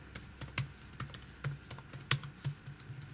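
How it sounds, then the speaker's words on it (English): Quick, uneven keystrokes clatter on a Huawei Matebook X Pro 2020 laptop keyboard, a steady run of light clicks with occasional louder taps, no voices. "keyboard sounds nice"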